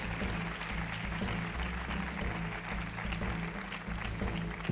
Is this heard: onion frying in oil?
no